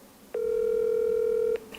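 A telephone line tone while a call to a friend is placed: a single steady electronic beep lasting just over a second over faint background noise, then cutting off.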